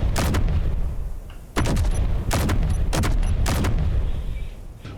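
Weapon firing rapidly in the video game Space Engineers, a series of loud sharp bursts with booming decay, roughly five blasts spaced under a second apart.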